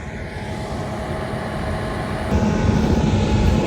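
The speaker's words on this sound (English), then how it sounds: "that plane sounded better than the drone did" A light propeller plane passes overhead at a drone sowing event, its steady engine drone growing louder partway through and holding near and continuous with no talk.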